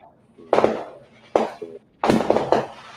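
Fireworks go off in a nearby backyard, three sharp cracking bursts spaced about a second apart, the last one doubled with a trailing crackle, loud against a quiet night.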